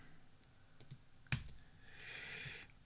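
Typing on a computer keyboard, quiet scattered keystrokes with one sharp louder clack in the middle, heard alone in a quiet room.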